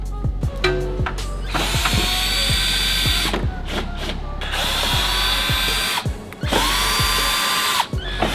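Cordless power drill zipping out the many fender liner screws on a BMW M2 G87, in repeated loud bursts of whirring that rise and stop, with brief clicks and clatter between runs and no talking.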